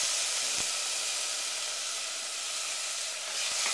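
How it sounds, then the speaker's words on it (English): Minced onion sizzles in a little olive oil in a pan as a steady, close, broadband hiss, with a few faint clicks mixed in. "we're going to add 1/3 of a cup minced onion"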